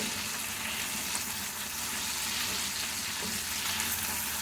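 Chicken, dipped in batter, deep-frying in oil over a medium flame, giving a dense, continuous crackling sizzle that holds steady and loud throughout with no voices.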